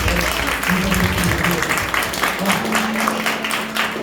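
A church congregation applauding, dense sustained clapping from many hands filling the room, with a voice speaking over it.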